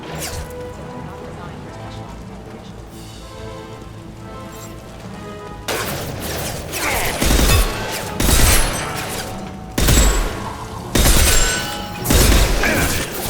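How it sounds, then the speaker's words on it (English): Impact shot gunfire and combat in Mass Effect 2, a steady dense background bed then a run of loud heavy bursts and booms, close and intense, with a voice shouting in the game. "Firing an impact shot!"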